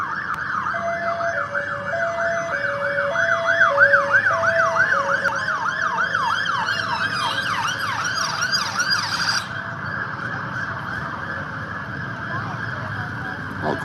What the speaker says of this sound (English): Not quite sure why there are fire engines.